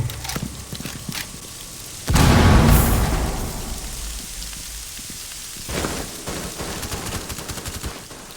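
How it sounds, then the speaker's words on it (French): Gunfire and a grenade blast in the tactical shooter game Rainbow Six Siege: an opening stretch of rapid shots, then a loud broadband explosion that rumbles and slowly decays before more scattered shots follow. "Grenade envoyée."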